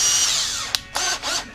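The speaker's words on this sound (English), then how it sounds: "I think I'm gonna drill a hole and tack them from the back" A power drill bores small holes for trailer hookups on a 1/14-scale lowboy trailer model, using a 2.5 mm bit: a few short, sharp whining bursts, close and fairly loud, separated by brief pauses.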